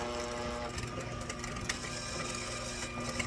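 A kitchen grinding machine that also grates cheese runs steadily close by, a dense mechanical whir with ratcheting, gear-like chatter throughout and no talking.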